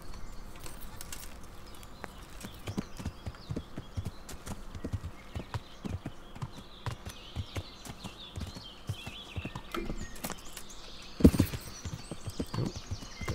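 Horse hooves clip-clop at a quick galloping pace in the medieval video game Kingdom Come: Deliverance, a steady rhythmic patter with a brief louder thump and faint birdsong behind, no talking.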